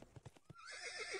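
A horse in a Minecraft mod game gives a short whinny after a few clip-clop hoofbeats, close and clear, with no talking.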